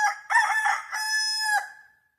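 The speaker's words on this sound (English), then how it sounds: "That's the sound of a rooster crowing." A rooster crows close by, a clear loud cock-a-doodle-doo in several rising and sustained segments that trails off after about two seconds, with nothing else heard.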